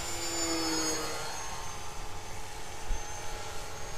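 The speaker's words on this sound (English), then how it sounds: "I'm gonna bump it up to full throttle here." An RC model MiG jet at full throttle gives a steady, moderately faint whining roar, its pitch slowly shifting as it flies past at a distance, with no voices.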